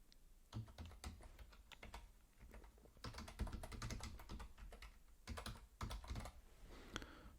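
Keys clatter on a computer keyboard as filler values are entered into a database setup form, coming in uneven bursts of rapid keystrokes with short pauses between, close and fairly crisp.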